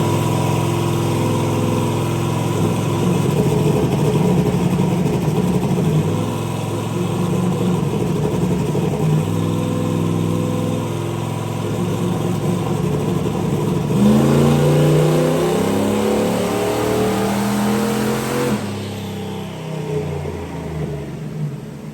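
A turbocharged methanol car engine with 24 large injectors runs steadily and loudly close by, holding a rough idle before rising and falling through several revs, alone with no talking.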